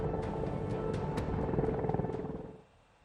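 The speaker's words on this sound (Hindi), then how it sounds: "सबसे पहले बात करेंगे हम अपाचे हेलीकॉप्टर की, जो आपके सामने है।" An Apache military helicopter at a forward airbase near the China border makes a loud, continuous rotor thud with steady engine whine, then fades out near the end.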